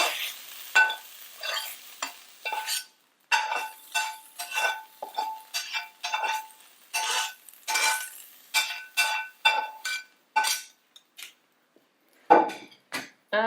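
Leeks are stirred gently in a pan, with repeated bursts of scraping and sizzling and light clinks of utensil against metal, separated by brief quiet pauses.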